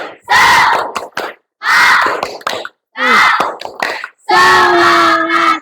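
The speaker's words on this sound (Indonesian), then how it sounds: "untuk penyemangat kita pada pagi hari ini, kita tepuk semangat dulu nih" A primary school class performs a rhythmic clapping chant together, four loud bursts of shouted group voices and sharp claps separated by brief silences, close and energetic in the classroom.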